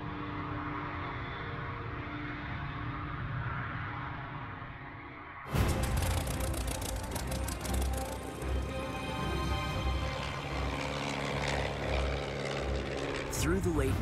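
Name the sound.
piston engine propeller plane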